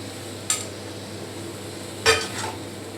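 Fried paneer cubes go into a cooked masala in a pan, with two sharp clinks of a utensil against the pan over a faint background sizzle; the second clink is louder and longer.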